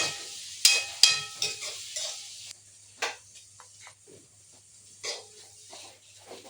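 Sliced onions fry in a pan, soft sizzling and hissing punctuated by occasional stirring scrapes and clatters, close by and without talk.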